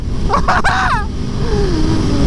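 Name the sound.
Aprilia Tuono V4 1100 Factory motorcycle engine riding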